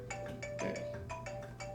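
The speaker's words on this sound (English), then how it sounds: "I can't answer the phone now." A telephone rings with repeated short electronic tone bursts in a steady pulsing pattern, moderately loud and unaccompanied by speech, over a low hum.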